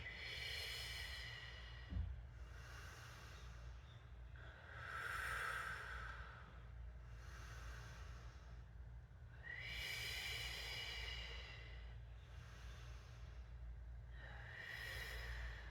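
Slow, steady breathing during a Pilates exercise, with soft drawn-out inhales and exhales alternating in a regular rhythm, faint and close, with no talk.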